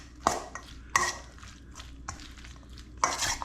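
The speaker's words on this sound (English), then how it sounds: "Let's stir this up" A utensil stirs shredded carrots in a pot, giving three or four sharp clinks and scrapes against the metal, with softer rustling strokes between them, close up and without voices.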